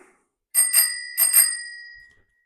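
A bicycle bell on a simple three-gear bike with one handbrake rings clearly in two quick double-dings, each pair ringing out with a sustained metallic tone that fades, no talking.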